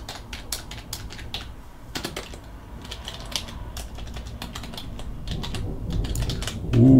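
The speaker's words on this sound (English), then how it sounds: "There's a bit of typing." Rapid, uneven computer keyboard typing with sharp clicks and clatter, close by, running steadily throughout; a low rumble of thunder swells near the end.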